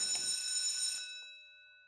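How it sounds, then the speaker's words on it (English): An elevator alarm bell in the Skyscrapersim building game rings loud and metallic for about a second, then cuts off and leaves a fading ring. "I can ring an alarm in this elevator"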